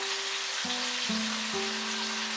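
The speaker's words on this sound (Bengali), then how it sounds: "তেলটা ভালো মতো গরম হয়ে গেলে এর মধ্যে আমি দিয়ে দিচ্ছি ডুমো ডুমো করে কেটে রাখা আলু" Diced potatoes frying in hot oil, a soft, steady sizzle running throughout at moderate volume, with low tonal hum lines in the background and no talk.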